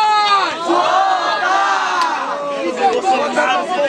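A battle rap event crowd cheers and shouts loudly and continuously, a dense roar of many voices with rising yells and whoops, close and unbroken throughout.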